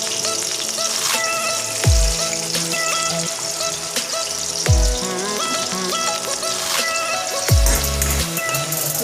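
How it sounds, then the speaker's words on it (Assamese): Onions fry in fish oil in a pan, a loud, close, steady sizzle with crackling spatter and a few sharp clatters of stirring. "এতিয়া পিঁয়াজখিনি ৰঙা নোহোৱালৈকে ভাজি থাকিব লাগিব।"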